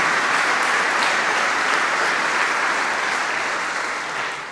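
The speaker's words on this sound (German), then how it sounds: "Den kräftigen Applaus" At a university matriculation ceremony in Jena, the audience gives loud, dense applause that holds steady and then tapers slightly at the close, with no voices over it.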